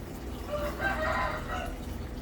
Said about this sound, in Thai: ไก่ขันดีจริง ๆเลยนะครับ